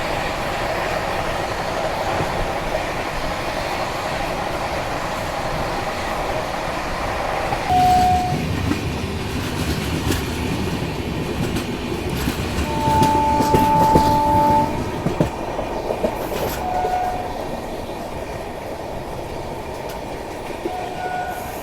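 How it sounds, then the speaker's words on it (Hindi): An AC express train running on rails between Bangalore and Howrah, a steady rumbling roar with rhythmic clatter and a few brief horn tones partway through, heard from on board. "इस कारण से हमारी ट्रेन फ़िलहाल स्लो हो चुकी है"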